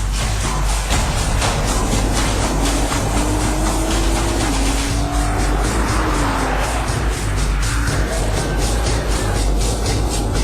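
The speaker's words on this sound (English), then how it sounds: "The GTR flies across the line at the Nürburgring in Germany." A Nissan GT-R race car at speed on the Nürburgring in Germany, its engine a loud, sustained roar with rising and falling pitch shifts as it passes, dense and continuous throughout.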